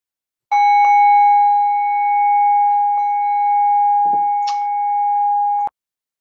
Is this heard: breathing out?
no